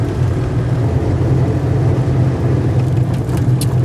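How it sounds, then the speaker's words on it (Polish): A Fiat 126p Maluch, driven through Kazakhstan, gives a steady low engine drone from inside the car with faint unevenness that hints at misfiring. No voices are heard. "Ewidentnie przerywa maszyna."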